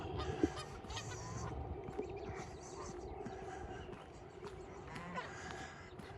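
Geese honk repeatedly along a creek on a gray morning, the calls moderately distant over steady outdoor ambience and footsteps.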